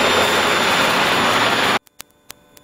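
A Robinson R22 helicopter engine roars loud and steady with rotor noise during an autorotation power recovery, then cuts off abruptly, leaving a few sharp knocks in near silence.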